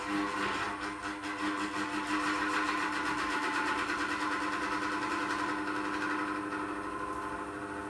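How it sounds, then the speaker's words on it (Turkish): An electric fan runs steadily on stored power from a hand-cranked generator, giving a continuous whirring, buzzing drone with a fine rapid flutter, fairly close and even in level throughout with no talk. "Vantilatörümü çalıştıracağım arkadaşlar."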